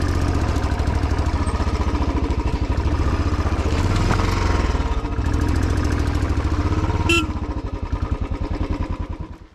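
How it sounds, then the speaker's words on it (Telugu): A motorcycle engine runs on a hill-station road with a steady, throbbing pulse, loud and close throughout, its beat shifting slightly as the revs change and a short high squeak near the end. "My bike never stops."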